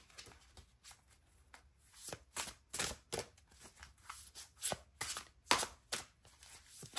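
Tarot cards are shuffled by hand in repeated quick riffling bursts with short pauses, close and fairly quiet, with no talking.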